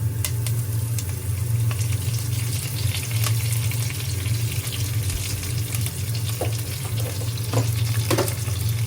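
Curry leaves and onion sauté in hot oil for a Sri Lankan crab curry, making a continuous close sizzle with scattered sharp crackles and spits over a low steady hum.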